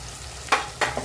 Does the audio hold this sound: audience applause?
no